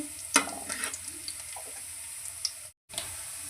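Chili and onion going into hot oil for a fish egg fry set off a broad, steady sizzle with a sharp burst near the start, crackling on alone until a brief dropout near the end.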